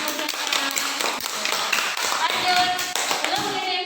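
A classroom of students clapping together in quick repeated bursts, dense and fairly loud, mixed with voices.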